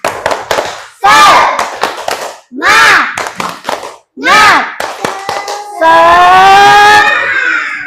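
A group of students performs a rhythmic clapping chant together, sharp bursts of synchronized hand claps alternating with loud shouted vocal calls, ending in a long sustained group shout.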